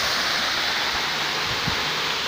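Cabbunbata Falls pours down in a loud, constant rush of water that sounds close by and steady throughout, with no voices over it.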